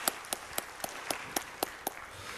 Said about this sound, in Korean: 하나님께 감사와 영광의 박수를 드립시다.